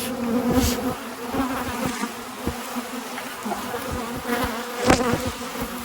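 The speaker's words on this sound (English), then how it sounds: "They're swarming, but they're not really attacking." Honey bees buzz and drone around an open hive during an inspection, with a dense steady hum and individual bees zipping close past at intervals, fairly loud and near.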